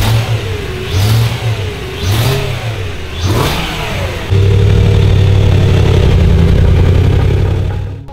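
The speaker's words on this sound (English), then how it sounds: "The engine is good to go, honestly. It sounds pretty healthy." A BMW E92 M3 engine is revved several times in short, rising-and-falling blips, then held at a steady higher rev, loud and close with no talking.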